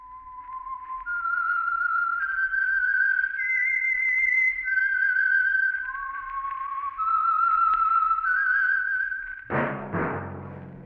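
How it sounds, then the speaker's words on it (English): A whistled theme tune for the Whistler radio show, a clear solo melody of sustained, rising and falling notes in a steady phrase, then cut off by a sudden broadband burst near the end. "That whistle is your signal for the Signal Oil Program, The Whistler."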